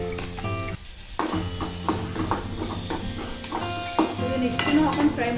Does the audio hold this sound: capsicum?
yes